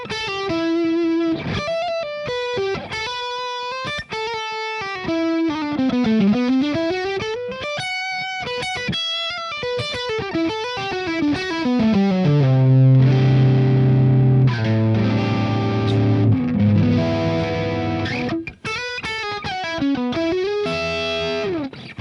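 A distorted electric guitar through a Boss DS-1 distortion pedal on its Fusion setting plays sustained chords and sliding melodic runs, thick and saturated, with a heavier low chordal passage in the middle, no voices.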